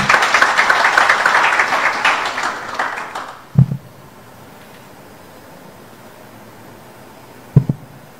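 Crowd applause fills the first few seconds then fades out, leaving a quiet hum with a couple of isolated thumps.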